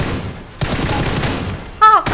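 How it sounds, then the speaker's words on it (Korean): A short burst of rapid gunfire, fairly close, with a brief pause and then a sharp electronic chirp near the end. "총소리 들었지?"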